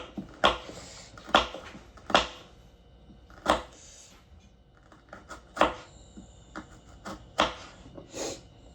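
Garlic cloves chopped with a knife on a cutting board in a home kitchen, about ten sharp, separate knife strikes at an uneven pace, close and fairly loud with quiet gaps between them.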